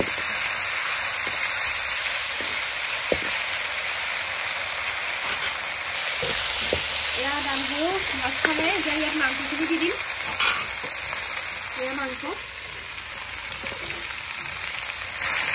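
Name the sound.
duck meat frying in a pan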